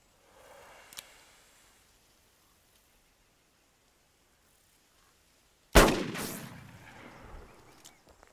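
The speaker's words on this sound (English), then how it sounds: "Shoot the bottle." A single sharp gunshot, fired at a bottle in a drama film scene, cracks loudly and close after several seconds of near silence, then a long rumbling echo decays; a faint click sounds earlier.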